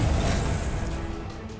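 A Confringo blasting spell cast in Hogwarts Legacy during a boss fight: a broad, crackling explosive burst right at the start that fades into a rumbling, decaying tail over about a second and a half.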